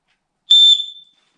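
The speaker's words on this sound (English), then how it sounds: "this bag has an ear-piercing whistle on it." A single short, piercing high-pitched blast from a safety whistle on a bag, loud and close, trailing off quickly into silence.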